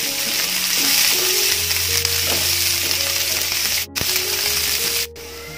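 Garlic cloves sautéing in oil for a special garlic pickle, a steady close sizzle and crackle with a low hum underneath and a couple of brief sharp clicks near the end.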